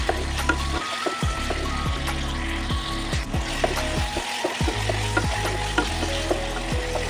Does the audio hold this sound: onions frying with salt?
yes